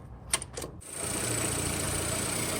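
After a couple of quick clicks, a car engine with the gear lever in reverse settles into a steady running drone with a thin whining tone on top.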